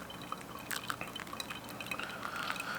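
Hot water pours into a V60 coffee dripper, a steady close trickle with soft drips and a thin rising stream sound, fairly quiet and continuous with no talking.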